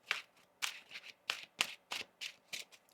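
Tarot cards being shuffled by hand: about eight quick, crisp riffling bursts in an even rhythm, close and clear with no talking.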